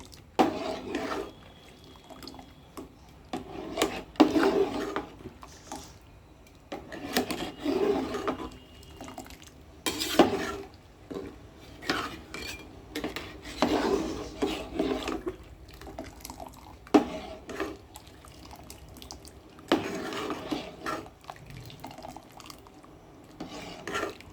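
A sugar, pectin, water and mango juice mixture stirred steadily in a pot, with repeated scraping and sloshing strokes of a spoon against the pan, close and moderately loud, with no talking.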